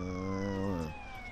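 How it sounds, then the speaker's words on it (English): A toy police siren wails loudly and steadily, then winds down and drops away in under a second, leaving quiet background noise with no talking. "Wait, turn on my siren."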